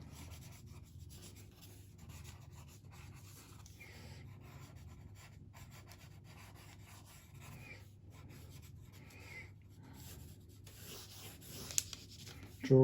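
A pencil sketches a gathered Renaissance-style sleeve design on paper with soft, continuous scratchy rubbing strokes, faint and close, with a brief knock near the end.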